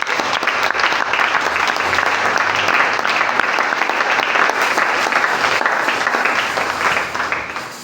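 A church congregation breaks into loud, sustained applause during a French-language sermon on prayer, a dense wash of many hands clapping that holds steady for several seconds before beginning to taper.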